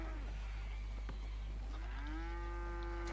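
Cattle mooing in a ranch roleplay video game: a couple of drawn-out, low moos, the second long and rising, heard close over a constant low electrical hum with no talking.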